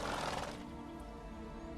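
A horse neighs in The Witcher 3 video game, a single loud whinny that peaks early and then trails off over a steady background of ambient game sound.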